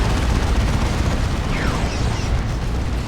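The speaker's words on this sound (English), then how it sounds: "Assault Cannon Barrage." A dense, continuous roar of heavy assault cannon barrage from Warhammer 40,000: Dawn of War 2 battle, loud and steady, with rumbling impacts blending into a sustained wall of fire throughout.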